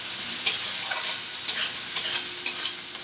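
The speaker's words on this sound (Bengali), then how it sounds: "আমি এবার আলুগুলো দিয়ে দেবো।" Potatoes are stirred into a frying spice paste in a pan for a home-style chicken and potato curry. A constant sizzle carries regular scraping strokes about every half second, close and clear with no talk.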